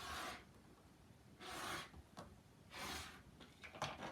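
A rotary or blade cutter slicing through white quilting fabric along a ruler, three distinct scraping strokes with pauses between and a few lighter scrapes at the end, close and fairly quiet.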